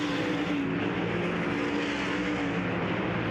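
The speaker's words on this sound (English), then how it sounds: "Cars underway now in our third Dirt Draft Hot Lap session of the night." Sprint race cars lapping a dirt oval at Lakeside Speedway in a night hot lap session, a loud continuous engine roar from several cars blending into a dense, sustained drone.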